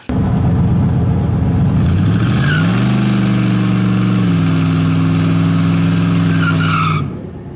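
A Chevy S-10 pickup truck launches hard down a drag strip, its engine roaring loud and close as it shifts up through the gears before the sound drops away at the end.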